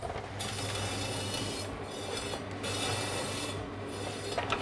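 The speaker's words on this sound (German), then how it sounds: "Gehen an die Aufschnittmaschine." A meat slicer cuts day-old bread into thin strips: a rough, rasping rub repeating in a few even strokes with short pauses between, close and fairly quiet.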